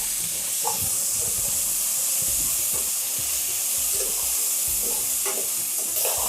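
Green chillies and other ingredients sizzling and frying in a pan while preparing brinji rice, a steady close crackling hiss with occasional stirring scrapes running throughout, no voices.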